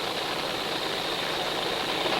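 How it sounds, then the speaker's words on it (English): A 1918 Mercedes aircraft engine, original and smooth running, drones steadily as a broad, constant roar close to the listener with no change in pitch or voices over it. "The engine is original, and that Mercedes is very smooth running"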